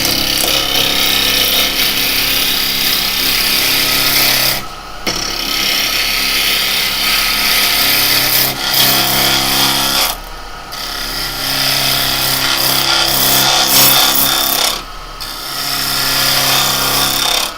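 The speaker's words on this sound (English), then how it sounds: "I'm going to just jump on the bowl gouge for a second" A half-inch bowl gouge cutting wood on a lathe: a loud, steady, rough shearing hiss over the motor's hum, with brief breaks as the tool lifts off, and no talk.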